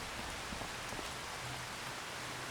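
Steady rain falls outside a farm, a soft continuous hiss of drops pattering on surfaces with no voices, even and unbroken throughout.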